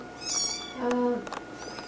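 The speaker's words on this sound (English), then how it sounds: "I think the kitties are noisy enough." Several cats meow in a house, a few short mewing calls rising and falling, close and moderately loud, with a longer meow in the middle and softer chirps around it.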